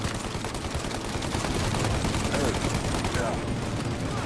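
Sustained gunfire roars through a shootout in the video game Mafia, a continuous dense barrage of shots under loud game noise.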